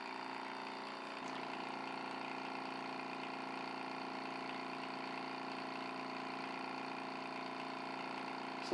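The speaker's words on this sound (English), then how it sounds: "So now I'm going to turn on the pump." Personal air sampling pump running steadily beside a bubble meter calibrator, a constant close mechanical hum that starts just after the first second and continues unbroken to the end.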